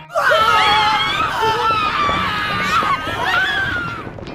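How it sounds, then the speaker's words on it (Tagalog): Companions screaming as a sound effect in a fantasy audiobook, with loud, sustained, wavering high-pitched cries and wails from several voices overlapping and slowly fading near the end. "Narinig ni Beast ang sigaw ng mga kasamahan niya na unti-unting nawawala."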